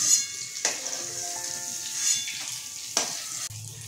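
Paneer pieces gently frying in oil over low heat give a steady soft sizzle, broken by two sharp metal-utensil clinks as the pieces are lifted out of the pan.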